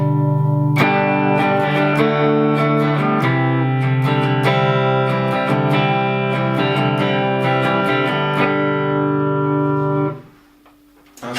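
Epiphone Les Paul electric guitar switched to a blues bucker pickup, ringing out a steady run of strummed chords and single notes, close and full, then cutting off into near silence at the end.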